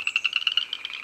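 Frogs croaking along a stream at night, a rapid steady pulsing chorus of trilled calls, moderately close and continuous with no voices.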